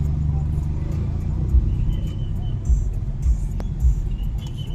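Road traffic rumbles outside a Jollibee opening in Hilongos, a constant low engine drone from slow-moving cars with occasional heavier thumps, heard from inside a vehicle with people talking over it.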